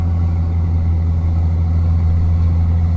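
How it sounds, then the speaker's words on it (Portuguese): A Volkswagen Constellation truck's engine brake in Euro Truck Simulator 2 drones as a loud, steady low engine hum, continuous and even throughout with no breaks. "Freio motor, hein?"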